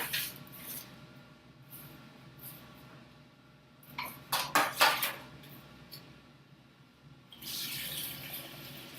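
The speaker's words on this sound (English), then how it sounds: "I'm adding some more cold water to make sure all the white paper I've just added gets mushed in." Cold water pours and splashes into a container of blended paper pulp, with a few sharp clinks and knocks midway and a rushing stream rising again at the end.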